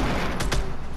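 Two quick, loud blasts go off close together in the video game Fortnite, like a grenade explosion, standing out over steady background game noise.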